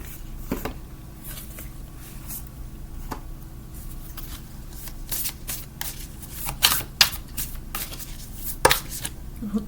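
Moonology oracle cards shuffled by hand, a close run of soft riffling and slapping with sharper snaps near the end.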